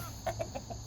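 Two white roosters kept together in a homestead coop give soft, short clucks, four quick muted notes in a row, fairly faint over steady background noise.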